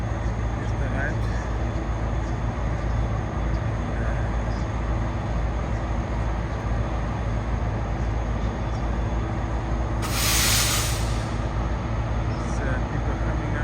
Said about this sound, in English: So finally, the train is here.